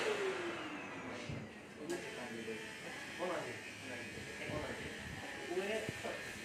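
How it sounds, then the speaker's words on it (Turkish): A floor-level hair suction vent in a Japanese barber shop roars with a steady motorized whoosh and hum, and pitch shifts as hair is swept in. People talk over it. "Süpürgeyle yere getiriyor kılları ve oradan sistem içeri çekiyor."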